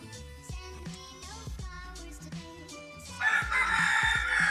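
Several chickens cluck and squawk nearby, then a rooster lets out a loud, drawn-out crow toward the end.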